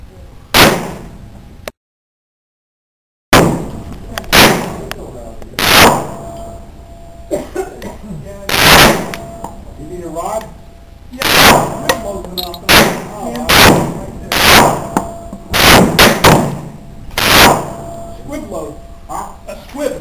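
Kahr P380 pocket pistol fired at targets, a long string of sharp, loud gunshots spaced a second or two apart, with a brief silent gap early on and speech between shots.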